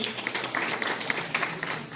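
An audience at a network marketing seminar claps for a man being called up to the stage, a brief burst of scattered, uneven hand claps at moderate volume, some individual claps standing out.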